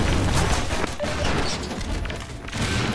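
A grenade blast in an online shooter game, a loud broadband burst that fills the clip with a dense, rumbling roar and crackling debris, with no voices over it.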